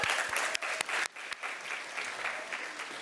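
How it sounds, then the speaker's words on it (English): Graduates at an end-of-year event applaud themselves, a crowd of clapping hands, brisk at first and then settling into a softer, steady patter at moderate distance. "please give yourself a round of applause as well"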